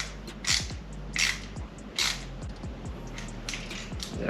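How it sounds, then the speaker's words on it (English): Beefy screwdriver driving screws into threads that are not pre-drilled on a Ferrari 360 CS Spider, heard as a series of close, squeaky creaking turns in short bursts, each twist grinding and pausing before the next. "we need a bit more of a beefy screwdriver in order to get the job done"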